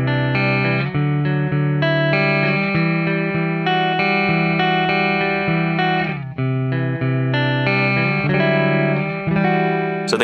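Clean electric guitar tone through a St. James 6L6 amp simulation, ringing chords and sustained notes played alone with a shimmering, effected sheen and close, steady volume, with a brief dip and pick-up midway.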